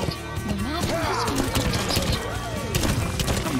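Horse galloping in the video game Metal Gear Solid V: The Phantom Pain, rapid hoofbeats and a whinny up close amid game sounds, with a voice talking over the action.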